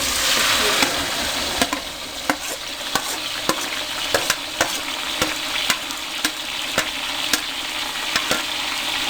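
Chopped ginger and onions frying over high heat for tikka masala pulao, with a loud continuous sizzle and a regular run of sharp clicks from a spatula scraping the pan.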